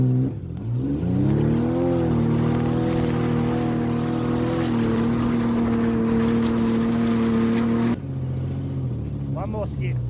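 An old VH sedan engine that spent 20 years underwater runs with a steady idle drone and a rising rev near the start, loud and continuous, with voices talking over it.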